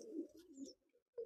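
Pigeons of the Lalbag breed cooing in a loft, two soft, low, throaty coos close by with a brief pause between, quiet and without any talking.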